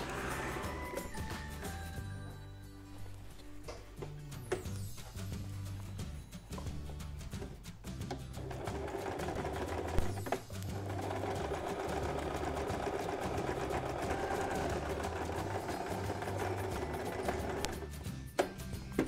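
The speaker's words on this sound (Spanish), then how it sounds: "Y voy a unir con puntada recta." A sewing machine runs a straight stitch, joining two fabric pieces for a baby changing mat, with a steady mechanical whir that stays close and continuous after a brief stop-start opening, with no voices.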